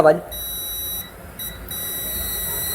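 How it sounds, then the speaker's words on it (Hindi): Multimeter in continuity mode sounding its buzzer while a scooter fuse is checked, steady high electronic beeps that run through most of the moment with a couple of short gaps, heard under someone talking. "कंटिन्यूटी मोड, जिसके अंदर आपका बजर चालू होता है।"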